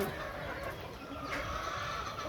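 Sonali parent-stock chickens cluck softly on a poultry farm amid a busy, noisy background, their short calls scattered and fairly faint.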